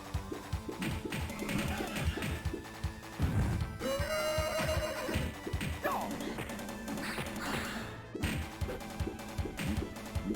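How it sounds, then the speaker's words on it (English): A horse whinny in the Teenage Mutant Ninja Turtles arcade game rises and wavers, whistle-like, over busy music and clattering effects. "that's supposed to sound like a horse whinnying"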